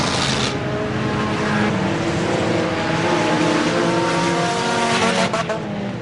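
Race cars circling an enduro track at Merrittville, a loud continuous roar of several engines with rising and falling pitch and occasional tire squeal.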